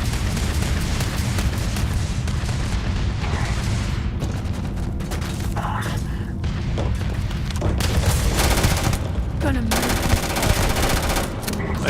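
Gunfire in the video game Starfield: dense, loud bursts of automatic weapon fire and booming impacts that run almost without pause.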